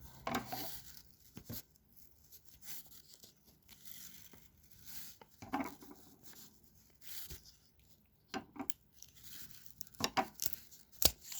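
Scissors snip and crunch through tough material in short, irregular cuts, close and fairly quiet, with rustling between them.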